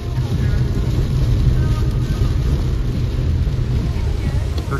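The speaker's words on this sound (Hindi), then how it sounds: "बहुत बुरी बारिश पड़ रही है, बहुत बुरी" Heavy rain drums steadily on a car during a road trip in India, a dense, constant roar with low road rumble underneath, heard from inside the vehicle.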